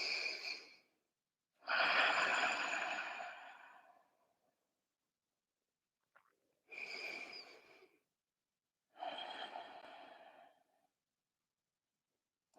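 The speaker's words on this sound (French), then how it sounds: "Prends une ou deux belles respirations sur le côté." Slow, deep breaths during yoga relaxation, four long airy inhales and exhales separated by silent pauses, close and quiet with no talking.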